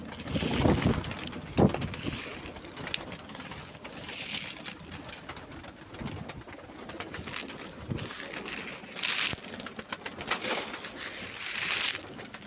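Pigeons at a winter feeding coo softly and repeatedly, with intermittent low throaty calls and some wing and scuffling noise, fairly close and moderately quiet.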